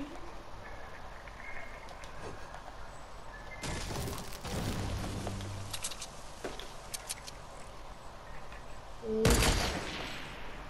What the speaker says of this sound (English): Someone trying to snipe me.